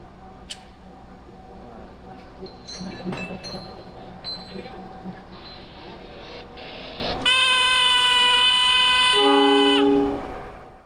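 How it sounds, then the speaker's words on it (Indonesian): Metallic clinks and a heavy clunk as a locomotive couples to train wagons in Indonesia, followed by a loud, sustained horn blast. "sekarang kita mau lihat proses penyambungan kereta api dari loko ke gerbong"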